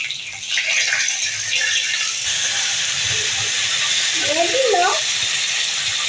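A paste of ground onion, ginger, garlic, chili and tomato hits a hot pan already holding clove and cinnamon, giving a loud, continuous steamy hiss with a short murmur of voice partway through.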